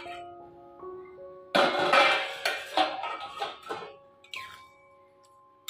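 A metal lid comes off a pot of pointed gourd (potol) cooking on the stove, giving a burst of clanks and clinks followed by a few lighter metallic knocks, close and fairly loud, with no talking.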